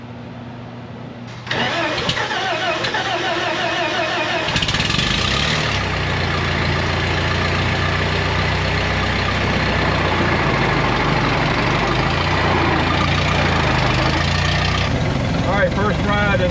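A 1920 Ford Model T engine starts and then runs steadily at close range, loud and continuous after a brief quieter opening, with a shift partway through as it settles.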